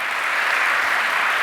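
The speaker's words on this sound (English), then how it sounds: "Another round of applause for Dr." Dense, steady applause from an audience at a vertical flight society awards lecture, honoring a lecturer; loud, continuous clapping filling the room with no voices over it.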